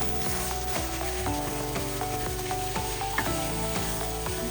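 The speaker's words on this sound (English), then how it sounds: "I'm gonna add in the beef. I'm gonna add the whole thing in." Ground beef frying with onion and curry paste in a pan gives a steady close sizzle, broken by repeated scraping and stirring strokes of a utensil as the meat is mashed and mixed, with no talking.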